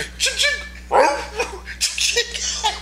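A man imitates a dog barking with his voice, giving a run of short sharp yips and barks in a loud, close, uneven burst.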